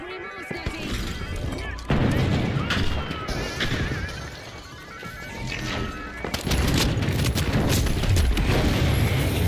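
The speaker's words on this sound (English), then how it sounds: "Sonar grenade out" Chaotic combat from The Finals on the Galaxy Estates map as a sonar grenade goes out, with booms, crashes and gunfire layered densely together at high volume and a commentator's voice talking through parts of it.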